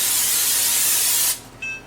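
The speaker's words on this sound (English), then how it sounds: "I have my skillet ready here. I'm going to go ahead and spray it." Cooking spray hisses onto a skillet in one loud, steady burst lasting over a second, then cuts off, leaving a faint click and quiet room tone.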